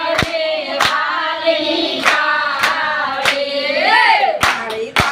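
During a Gujarati devotional bhajan to Mahadev, sharp hand claps land at a steady beat about every second, seven or eight in all, cutting through a loud sung melody.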